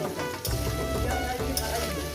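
Potatoes and drumstick vegetables fry steadily in a pan, a continuous close sizzle with light crackle throughout, no one talking.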